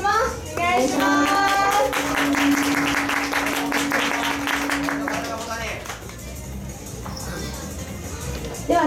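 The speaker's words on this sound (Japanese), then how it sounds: "よろしければ手拍子をお願いします。" An audience claps along in steady rhythm during an idol group's live stage performance, under a singing voice and music, with the clapping fading out toward the end.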